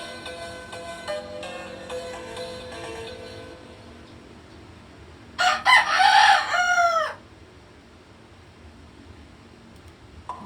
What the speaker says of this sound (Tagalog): Ba't ang daming manok? Manok ko yun eh.